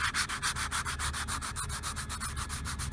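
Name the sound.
sanding a boat mast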